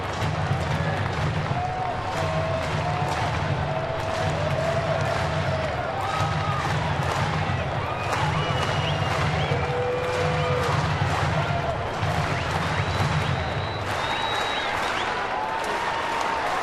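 A crowd of 25,198 at a Colorado at San Diego baseball game cheers and claps steadily, a dense, loud wash of applause filling the stadium throughout with scattered shouts and whistles.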